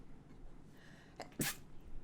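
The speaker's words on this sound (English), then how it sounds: "Don't sneeze." A single sharp sneeze bursts out against a quiet, faintly hissing background, preceded by a brief intake.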